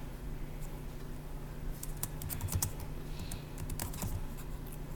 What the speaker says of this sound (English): So let me type that up.